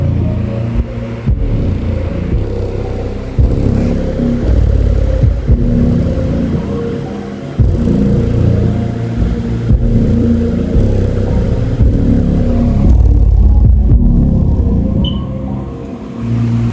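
Deep subwoofer bass pounds loudly and continuously at close range, its heavy low thumps setting off buzzing, rattling vibration in nearby objects throughout.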